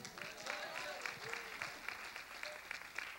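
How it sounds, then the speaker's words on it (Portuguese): A church congregation applauds during a sermon, soft rapid clapping heard faintly at a distance with voices rising over the patter. "você pode dar um aplauso para Jesus?"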